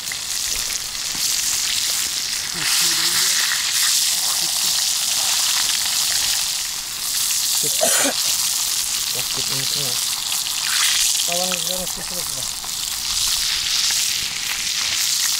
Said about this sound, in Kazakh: Қазір қызарып қуырып аламыз